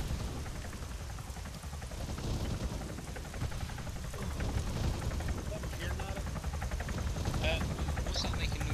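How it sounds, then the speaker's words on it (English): A Chinook helicopter in the video game Arma 3 thrums with a steady, rhythmic rotor chop and broad whooshing noise, moderately close, with no talk over it. "It is friendly helicopter, yeah?"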